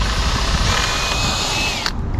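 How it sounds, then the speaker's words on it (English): A power drill runs steadily and loudly, boring through pallet wood, then cuts off abruptly near the end. "we're just going to drill through just on that line"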